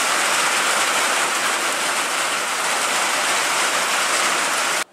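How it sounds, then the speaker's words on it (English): Heavy rain pouring down in a loud, constant hiss, dense and unbroken, cutting off abruptly at the very end. "now it's a freaking downpour"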